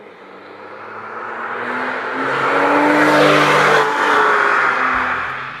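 A Porsche 911 Carrera of the 997 generation revs hard, its engine note climbing and swelling to a loud peak midway before easing off, close and unaccompanied by any voices.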